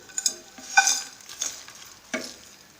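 Whole red chilies, fennel, cumin and black peppercorns dry roasting in a pan, stirred with a few scraping sweeps and light rattling taps of spices against the metal, soft and close with no voices.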